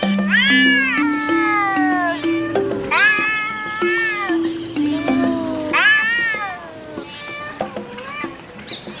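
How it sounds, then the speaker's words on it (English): A domestic cat meows repeatedly, giving several long, drawn-out, wavering cries close up and fairly loud, some stretching into a yowling caterwaul, with brief pauses between them. "cat,"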